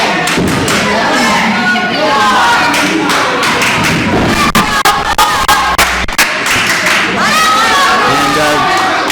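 A wrestling crowd roars and cheers loudly and continuously at a live match, with heavy thuds and claps cutting through the din and a commentator talking over it.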